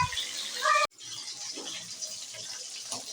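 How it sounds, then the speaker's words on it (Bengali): Bhetki fish fillets frying in hot oil, a steady broadband sizzle that cuts abruptly after a loud first second, then continues at a lower, even crackle with no talking. "এবার এরকম করে আমি সব মাছগুলো একে একে ভেজে নেব।"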